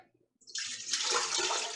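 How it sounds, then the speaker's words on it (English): Four cups of water poured into a large stock pot for cranberry sauce, a steady splashing gush starting after a brief quiet moment and continuing loudly to the end, with no talk. "So I have a large stock pot or pan, 4 cups of water"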